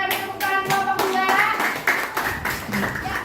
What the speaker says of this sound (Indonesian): Lihat kita tepuk tangan kelompok 2.